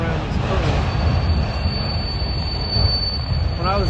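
A CSX freight train with auto racks rounds a curve, its wheels squealing in high, wavering tones over a constant rolling rumble, loud and close throughout.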